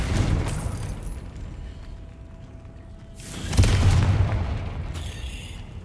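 A Confringo blasting spell from Hogwarts Legacy goes off as a deep booming explosion midway, with a burst of crackling debris and lingering rumble, preceded by softer game ambience.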